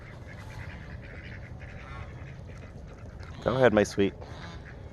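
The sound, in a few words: goose honking and quacking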